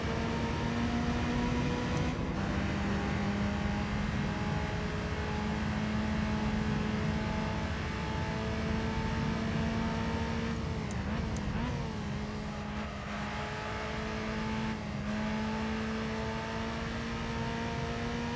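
A car engine in Gran Turismo 3 holds a steady high drone throughout, with a brief dip in pitch midway, all close and even in loudness.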